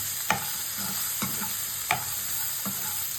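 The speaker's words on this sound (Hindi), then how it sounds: "और फिर इसको मिक्स करके थोड़ा और भूनना है।" Roasted peanuts and coconut pieces being dry-roasted and stirred in a pan for coconut chutney, a steady low sizzle punctuated by four sharp scraping strokes of a spoon, with no one speaking.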